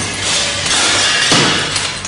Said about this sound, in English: There, I've broken the glass with a monkey wrench.